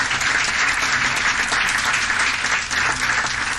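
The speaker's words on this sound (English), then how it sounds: "Let's have a round of applause for these great employees of the city." A city council chamber audience claps for city employees, a dense, even round of applause held steadily for several seconds.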